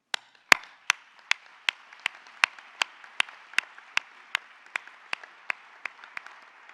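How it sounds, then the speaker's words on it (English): Sparse, evenly spaced claps ring out at a graduation ceremony, one sharp clap roughly every third of a second, clear and fairly quiet over a faint background of further scattered clapping. "I do suggest a round of applause"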